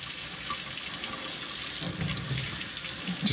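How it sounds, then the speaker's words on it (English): Steady tap water running into a sink while a knife is washed with dish soap, a continuous splashing hiss with faint clinks near the end. "I'm going to gently wash the unboxing knife's goo. I'm going to get some dish soap on the goo."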